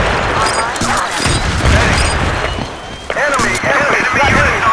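Battlefield 2 multiplayer round: a busy stretch of rattling gunfire and heavy explosion booms, including a frag grenade blast, with in-game radio voice callouts layered over the continuous combat.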